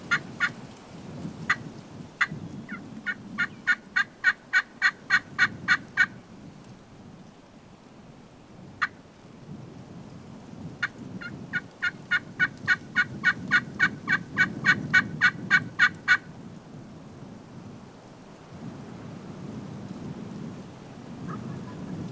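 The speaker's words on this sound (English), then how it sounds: "unless we hear a turkey gobbling off some direction" A wild turkey gobbles in several bursts, each a rapid rattling series, heard at a distance in Oklahoma hunting country over a low rumble of wind and weather.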